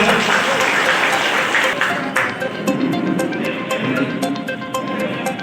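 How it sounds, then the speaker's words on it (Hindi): A large crowd at a grand public rally on Rangbhoomi ground in Purnia gives loud, dense applause, sustained and full throughout, with faint voices mixed in. "जोरदार ताली बजाएं आप लोग"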